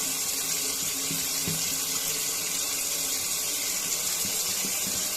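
Tap water runs steadily into a bathroom sink and drains straight away after the clogged drain has been cleared, a continuous close hiss and splash lasting throughout with no voices.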